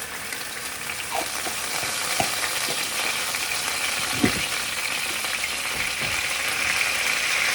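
Garlic sizzling in a pan of hot oil, a steady broadband frying hiss with occasional soft stirring clicks and pops, fairly close and continuous with no talking.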